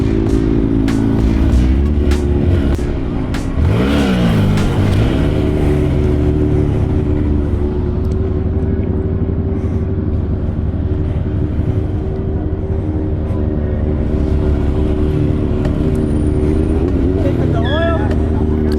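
Motorcycle engine with a slipping clutch revving at a bike night event, a loud close steady drone with repeated rising and falling revs, and voices talking over it.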